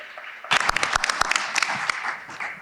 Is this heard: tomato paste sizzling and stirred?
no